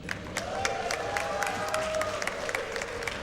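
An audience at a speedrun marathon event claps steadily throughout, a sustained crowd applause with a faint tone from the game underneath.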